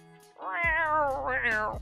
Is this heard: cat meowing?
yes